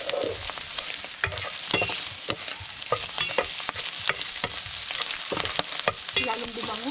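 Onions and garlic sauté in a pan, a close, steady sizzle punctuated by frequent sharp clicks and scrapes of a utensil stirring against the metal.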